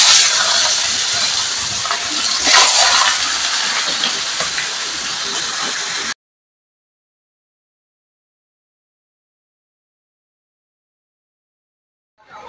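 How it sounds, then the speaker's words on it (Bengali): Fish frying in hot oil in a home kitchen, a dense steady hiss and crackle for about six seconds that then cuts to near silence. "এবার এইগুলো ভেজে নেব।"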